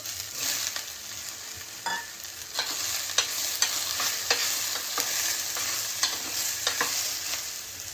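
Vegetables and meal maker (soy chunks) are stirred in a pan on a stove over low heat, with a steady sizzle of frying under repeated close scraping strokes of a spoon and no talk.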